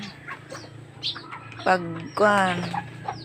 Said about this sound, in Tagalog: Ayan aking mga manok ko.